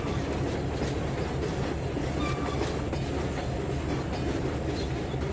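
A train rolls along the tracks in Trainz 2019 on the TideWater route, a loud continuous rumble with rhythmic wheel clatter and no pauses.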